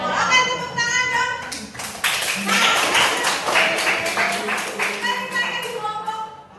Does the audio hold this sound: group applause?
yes